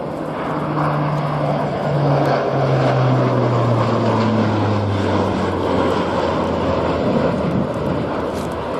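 A Lockheed CC-130J transport plane roars steadily overhead in an air show flypast, a loud droning propeller engine hum whose pitch slowly slides lower as it passes.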